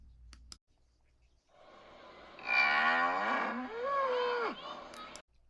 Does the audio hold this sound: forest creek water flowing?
no